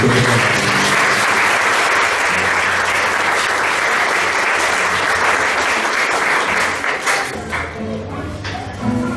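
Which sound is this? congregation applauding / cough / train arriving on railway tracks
congregation applauding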